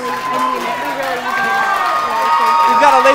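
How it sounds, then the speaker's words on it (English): Audience cheering and applauding at a live bachelorette-style show, a steady dense crowd roar with shouts that swells slightly toward the end, mixed with voices. "Big round of applause for our other man."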